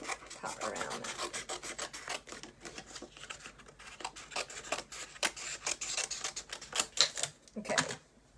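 Scissors cut around a paper card panel during stamped card-making, making a run of quick, crisp snipping and rasping strokes, close and fairly loud, with no talk.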